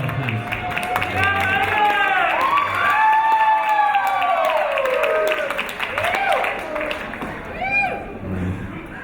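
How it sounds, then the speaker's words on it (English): Wedding guests break into clapping and cheering as a speaker is called up to give a toast, with whoops and shouts rising over steady, close applause and voices mixed throughout. "Give her a big round of applause, please."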